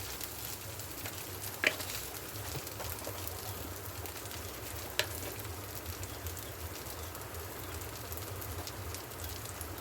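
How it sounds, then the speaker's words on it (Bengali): Ginger garlic paste frying in a pan gives a steady, soft sizzle like light rain, continuous and even, with a couple of faint clicks of a utensil. "আদা রসুন বাটাটা ভাজা হয়ে গেছে।"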